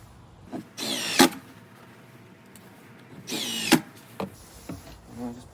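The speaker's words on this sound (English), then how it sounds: "bottom screw in first. Get the top screws in." Screws driven into a redwood barrel sauna with a power drill, two short whirring bursts a few seconds apart with a thud at the end of each, close up against a quiet background.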